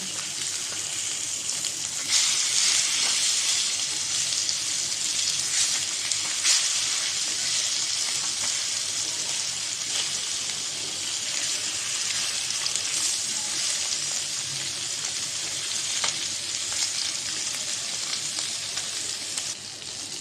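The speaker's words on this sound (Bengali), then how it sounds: "মাছটা বাজা হয়েছে এই পিঠটা উল্টাই দিলাম" Koi fish frying in a pan after being flipped, a dense, steady hissing sizzle that holds close and even for a long stretch, with an occasional faint clink and no clear speech.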